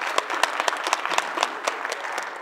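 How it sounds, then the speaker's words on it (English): Sustained audience applause from a seated crowd at an academic affairs event, honoring professors; steady dense clapping with scattered louder claps throughout, no talk over it. "So I'd like to give a round of applause to our professors"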